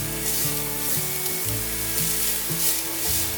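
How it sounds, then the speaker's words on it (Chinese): Carrots stir-fry in a little hot oil in a wok, a loud steady hiss of frying broken by regular rhythmic scraping strokes about every half second. "锅内放入少许油，油热了之后放入红萝卜， 把红萝卜先炒上色。"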